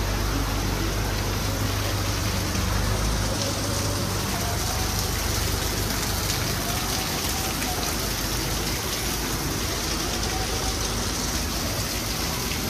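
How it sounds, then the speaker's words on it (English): Steady rain pours down outdoors all day, a continuous even hiss of drops on surfaces that holds unchanged throughout with no break or voice over it. "It's been raining like this all day."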